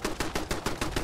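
Rapid bursts of Fallout 4 video game gunfire in a fast, even rhythm, seven or eight sharp shots in about a second, loud and close.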